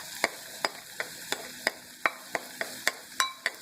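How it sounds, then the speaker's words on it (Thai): Thai garlic frying in a pot, stirred with sharp, regular scraping strokes about every third of a second over a steady close sizzle. "อย่างแรกก็คือเจียวกระเทียมนะคะ"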